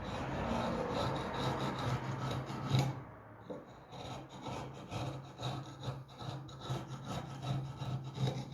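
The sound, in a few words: sanding old wooden furniture parts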